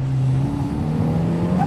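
A turbocharged Exocet track car accelerates under careful throttle, its engine a steady, loud, close droning tone that climbs slightly in pitch toward the end, with no talking.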